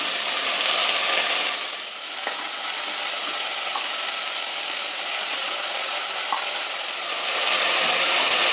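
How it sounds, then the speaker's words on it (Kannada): Vegetables with tomato and curry leaves sauté in hot oil in a pan. A loud, steady sizzle runs throughout, with a few faint stirring scrapes and taps close by. "ಎಣ್ಣೆಯಲ್ಲಿ ಚೆನ್ನಾಗಿ ಬಾಡಿಸ್ಬೇಕು ತರಕಾರಿಗಳನ್ನ"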